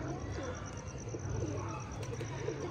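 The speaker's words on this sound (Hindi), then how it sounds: "माशाल्लाह जी कबूतर उड़ाए हुए हैं जी हमने" Domestic pigeons flying overhead at a pigeon club, a soft continuous cooing and fluttering murmur under steady outdoor background noise, with a faint voice present.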